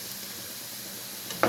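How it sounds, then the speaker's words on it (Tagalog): Onions sauté in oil in a pan for shrimp biryani, giving a faint steady sizzle that ends in a short louder stirring or frying burst. "Magisa na tayo ng sibuyas."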